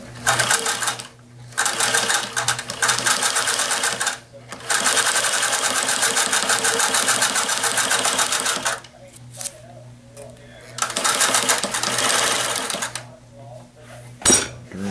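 Sewing machine stitching a stuff sack in long rapid bursts of needle chatter, separated by short pauses and stops, close up, with a person talking at times between runs.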